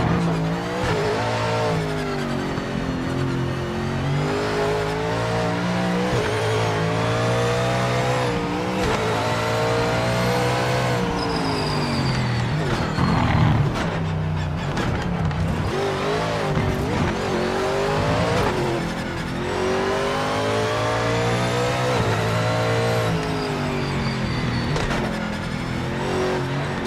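Gran Turismo race car engines scream and rev while tires squeal and skid through a long spin, continuous and loud with music-like layered tones.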